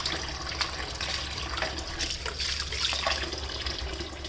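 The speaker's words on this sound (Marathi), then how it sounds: "भाजी धुताना चांगलं मोठं घामेलं घ्यायचं, त्याच्यामध्ये अशी खळखळीत भाजी धुवून घ्यायची." Leafy vegetables are swished and rinsed in a large bowl full of water in a kitchen, a steady close sloshing and trickling with small splashes throughout.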